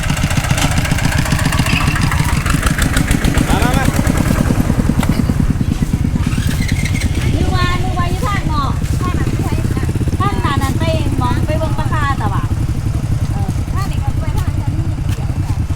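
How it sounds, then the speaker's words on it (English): A motorcycle engine idles and rumbles steadily throughout, loud and close, with people talking over it, in the 4000 Islands area of Laos. "Time to get back on the motorcycles."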